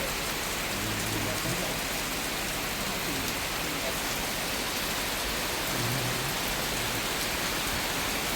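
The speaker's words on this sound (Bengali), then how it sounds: "তারপরেও বৃষ্টিটা উপভোগ করছি।" Steady rain falls in the Sundarbans mangrove forest, a dense even hiss of drops on surfaces around a trawler, with faint low rumbles underneath.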